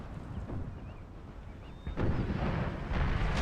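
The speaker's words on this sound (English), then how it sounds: "Taking small arms fire in the cavalry fight" Small arms fire crackles during a cavalry fight in an Empire: Total War battle using the Brothers vs. Brothers Civil War mod. A distant rumble of volleys swells sharply into denser, louder rolling gunfire partway through, with no voices.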